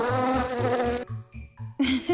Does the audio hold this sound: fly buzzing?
yes